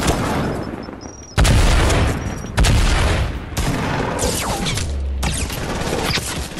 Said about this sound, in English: I'm getting shot at from the roof